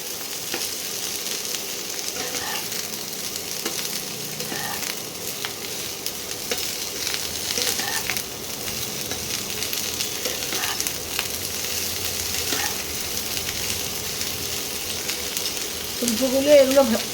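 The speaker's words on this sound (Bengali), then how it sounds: "শুধু তেলে দিয়ে ফোড়ন দিয়ে আর ফুলকপি আর আলুগুলোকে একটু ভাজছি" Cauliflower florets and potato pieces fry in hot oil with tempering spices. The sizzle is steady and crackling, with occasional stirring clinks and a slightly louder flare at the end.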